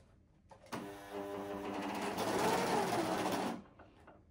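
A sewing machine stitches fabric in one continuous mechanical whir that starts abruptly, speeds up slightly, and stops after about three seconds, close and alone in a quiet room.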